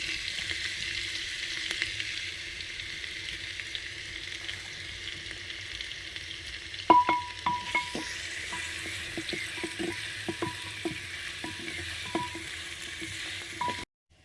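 Garlic fries in a clay pot with a soft, even sizzle, joined in the second half by a run of sharp clicks and taps from a utensil working in the pot, close and fairly quiet.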